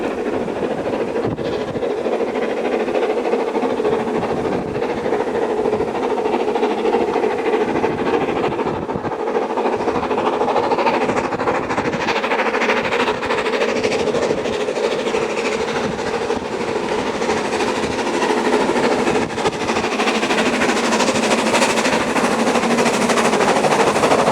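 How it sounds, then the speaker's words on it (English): Steam locomotive 53809 climbs a 1 in 75 gradient under a three-arch bridge on a heritage railway, its loud, steady chuffing and rolling wheel noise filling the whole stretch with no talk. "Attacking the 1 in 75 gradient with ease, 53809 passes under 3 Arch Bridge with the 12:50 p.m. Sheffield Park to Kingscote service."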